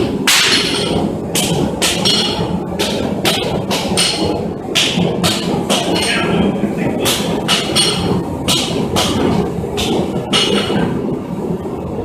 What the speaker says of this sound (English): and now forging.